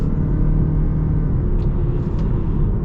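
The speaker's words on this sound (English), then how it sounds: "Now let's get our acceleration here with the UX" Lexus UX 250h hybrid SUV with CVT accelerating, a steady loud low rumble of engine and road noise heard from inside the cabin, continuous with no break.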